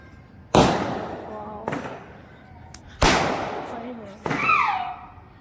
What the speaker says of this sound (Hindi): चांद निकलने की खुशी में लोग पटाखे जला रहे हैं।